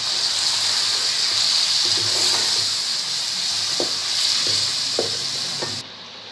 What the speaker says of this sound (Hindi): अब इसमें हम थोड़ा सा पानी डालेंगे